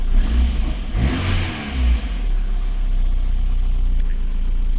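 A VAZ 21099 engine running on petrol rather than gas runs steadily at close range, with a brief rev early on before settling into an even idle.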